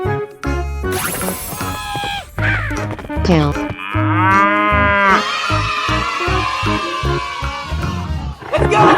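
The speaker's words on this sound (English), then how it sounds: "Cow." Cartoonish cow moos from a 3D animal slide game, loud and drawn-out, mixed with bright game music and other playful animal calls in a busy, continuous soundtrack.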